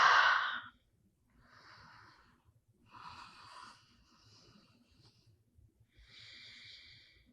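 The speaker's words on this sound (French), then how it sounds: "Encore une ou deux respirations ici." Slow, audible breaths during a yoga stretch after cross-country skiing: a strong exhale, then several softer, drawn-out breaths with pauses in between, close and quiet.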